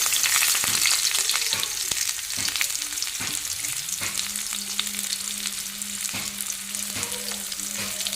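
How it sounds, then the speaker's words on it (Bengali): Oil sizzling steadily in a pan as dried chilli paste and chopped spices go in, a bright continuous frying hiss with occasional stirring clinks and scrapes, close up and with no talking. "এদিকে এখন সবগুলো ভেজে নামিয়ে নিলাম দিয়ে দিচ্ছি তেল এখন শুকনো লঙ্কা পেস্ট কুচি"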